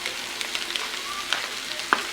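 Soy sauce goes into a hot pan of frying spring roll filling, a steady close sizzle with a few light clicks of a utensil against the pan.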